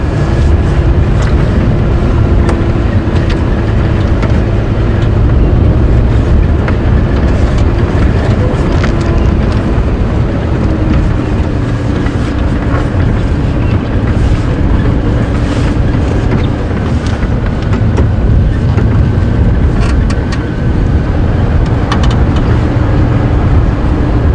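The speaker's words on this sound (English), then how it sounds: "The wind is picking up." Steady, loud wind buffeting the microphone in an open safari vehicle on a morning game drive at Djuma Game Reserve, a continuous rumbling roar with the engine low underneath and no talk.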